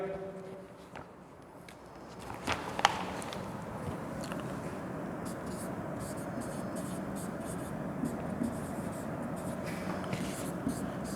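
Marker or chalk strokes on a classroom board during an English lesson, a steady scratchy writing texture running through most of the clip with faint background noise and a brief soft thump early on.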